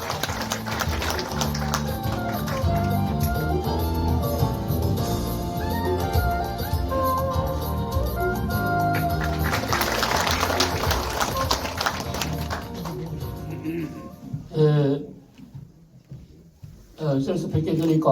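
An audience claps to welcome a speaker at a book relaunch ceremony in a Gumi history hall. Dense, sustained applause mixes with voices and other sound, then thins out and fades toward the end.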